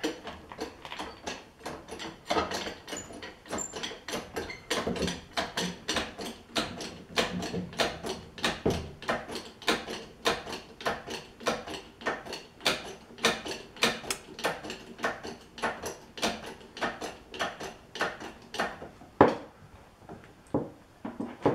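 A jack is cranked up in a long, even series of ratcheting clicks, each stroke sharp and close, repeating steadily for about twenty seconds with no talking.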